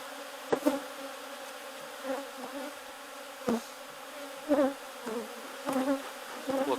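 Honeybees buzz steadily around an open hive, a dense close hum with occasional knocks and bumps from handling the wooden frames.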